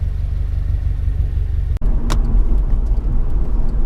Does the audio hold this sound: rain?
no